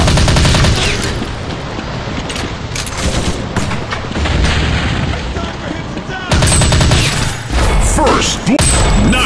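Dense, loud gunfire and explosions fill a mobile army commando shooting game, with rapid bursts layered over game music, a brief lull, and then more heavy firing.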